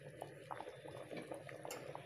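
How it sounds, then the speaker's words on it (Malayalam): Roasted-coconut egg curry bubbles in a pan, a soft steady simmer with small popping blips scattered through the clip, close and fairly quiet, with no voices. "ഇപ്പം നമ്മുടെ കറി ഇവിടെ നന്നായി തിളച്ച് അരപ്പൊക്കെ വെന്ത് കഴിഞ്ഞു."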